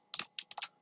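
Keys tapped on a computer keyboard while entering a spreadsheet formula: five quick, clicky, close keystrokes in a short burst, with no talking.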